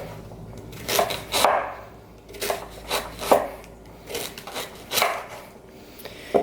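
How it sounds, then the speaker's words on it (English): Knife chopping carrots on a cutting board for wedding soup, a few spaced bursts of quick close cuts with short pauses between, no talk. "I'm going to go ahead and get my carrots cut up"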